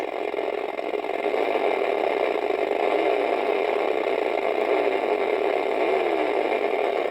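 A 1980 Kenner Redline drag racing toy plays its engine sound effect, a steady buzzing whir with a rattly edge that swells slightly as the gas button raises the revs, loud and continuous.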